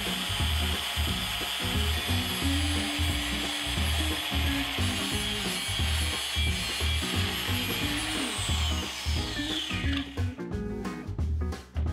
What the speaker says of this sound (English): we're just gonna clean it up a bit with the grinder before welding it back together